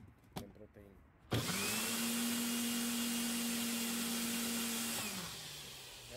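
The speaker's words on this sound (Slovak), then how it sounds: "Ja používam takýto mixer elektrický a teraz si to rozmixujem." An electric mixer blends a protein powder shake after a couple of sharp clicks, then runs at a loud, steady whine for several seconds before spinning down.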